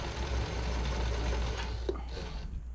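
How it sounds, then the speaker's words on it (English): A sewing machine runs steadily while stitching a fitting sample for a bra, its bobbin nearly empty, a continuous close mechanical whir with a brief click near the end. "It sounds like my bobbin's getting messed up."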